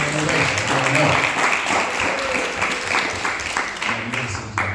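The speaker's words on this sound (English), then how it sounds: "Can we give them a round of applause?" An audience at a book tour event gives a standing ovation, sustained loud clapping mixed with cheers and murmuring voices, tapering slightly toward the end.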